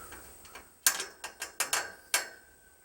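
Bolt tightened on corner bracing of a high tunnel frame, heard as a series of sharp metallic ratcheting clicks in irregular bursts, close and moderately loud with no talking.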